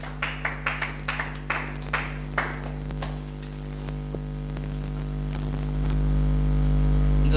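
A short run of rhythmic hand claps from a small gathering fades after about three seconds into a steady electrical hum, with no talk.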